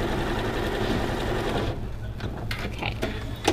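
A sewing machine runs steadily stitching a quarter-inch quilt seam for a Stars on Parade quilt, a dense continuous whir that stops partway, followed by quieter faint handling sounds.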